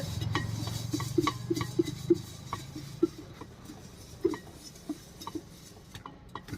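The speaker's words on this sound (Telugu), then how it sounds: "ఇప్పుడు బొరుగులు మొత్తాన్ని అయితే మిక్స్ చేసుకుంటా ఉంది" Puffed rice tossed with chopped tomatoes in a dish for a spicy raw-mango snack, heard as soft stirring with a run of light metallic clinks and taps against the dish, close and fairly quiet.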